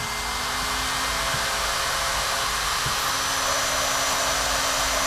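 Small electric motor of a Yokomo YZ-2 DTM 3.1 buggy running under load, a steady high-pitched broadband whine holding constant and loud for the whole stretch, with no talk over it.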